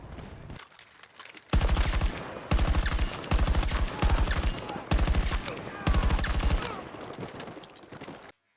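Automatic-weapon fire in the video game Battlefield 2042 rattles out in five or six loud, close bursts separated by short pauses, with a fainter tail of gameplay noise afterward.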